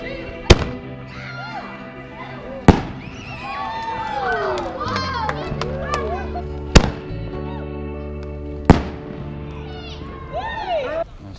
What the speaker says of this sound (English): Firework time.